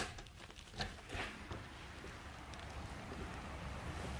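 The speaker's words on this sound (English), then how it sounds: "So windy." Strong wind buffets the microphone in rough gusts, a constant low roar with a few sharper bursts early on.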